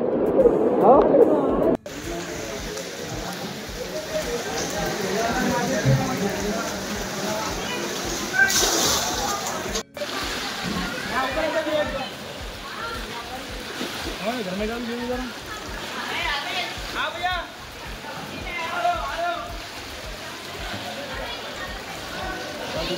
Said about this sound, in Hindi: बहुत प्रेशर है पानी का